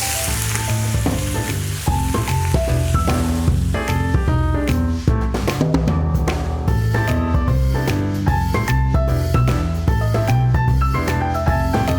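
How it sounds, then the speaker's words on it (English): Oven-cooked beef frying in a pan to crisp up, a loud continuous sizzle with stirring scrapes and crackles throughout, no voices. "I just fry the beef."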